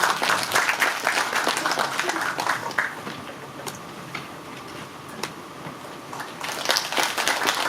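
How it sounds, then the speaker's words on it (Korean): Audience applause at a Korean city council policy presentation, clapping that is strong at the start, thins out in the middle and swells again near the end, with some voices in the background. "박수 부탁드립니다."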